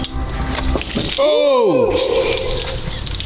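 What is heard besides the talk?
water gushing out of Mercedes AMG GT engine head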